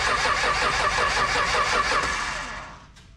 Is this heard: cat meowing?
no